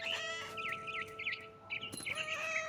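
A frightened bird squawks and warbles in the video game What Remains of Edith Finch, a run of shrill chirping calls close by, broken by a sharp thump near the end.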